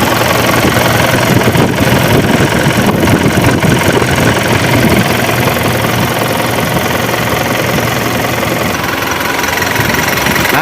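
A Mitsubishi Canter Euro 4 truck engine idles with its cooling fan turning, a loud, steady, close mechanical rumble with a knocking clatter that runs unbroken throughout.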